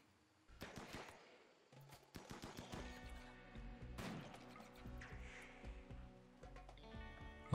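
Rimworld colonists' guns crackle in a firefight, with shots coming in irregular bursts and single cracks spread over several seconds at a fairly faint level.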